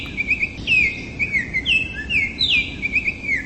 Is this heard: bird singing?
yes